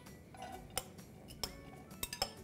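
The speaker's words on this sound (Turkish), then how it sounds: "Soğanımızı tenceremize alıyoruz burada." Chopped onion goes into a cooking pot with no oil, giving a few sharp metallic clinks and light scraping of utensil against pot, close and quiet, with a faint steady background hiss.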